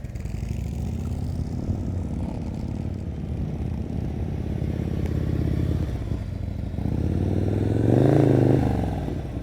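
A motorcycle engine idles and pulls steadily through slow-speed turns during a riding skills practice session, with a continuous low rumble that swells briefly near the end as the throttle opens.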